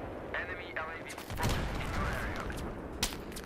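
Gunfire in the shooter game Battlefield 3 on the Gulf of Oman map, a few sharp cracking shots and a clattering flurry over a busy background, with a person talking through it.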